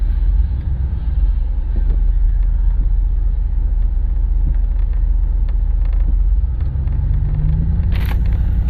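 A 2001 Dodge Ram 2500 SLT Laramie pickup with over 200,000 miles drones in a deep, steady engine rumble as it drives, with a brief whistling whine near the end.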